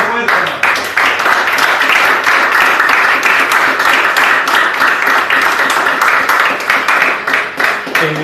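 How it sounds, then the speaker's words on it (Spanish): A church congregation breaks into loud, sustained applause, dense clapping filling the space continuously with scattered voices mixed in throughout. "Un aplauso fuerte, hermano."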